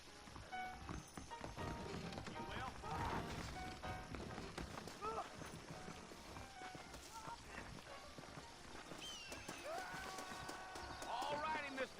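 Horses clip-clopping in the Western video game Red Dead Redemption, rhythmic hoofbeats at a steady trot-like pace, fairly quiet, mixed with talk throughout.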